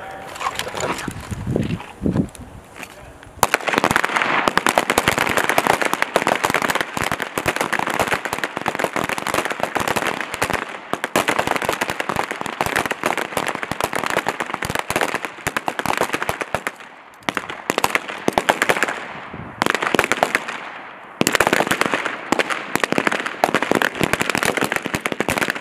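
Rifle gunfire at a U.S. Army small arms shooting competition, dense rapid cracks of many shots in sustained volleys with a brief pause, loud and close, after a few opening commands.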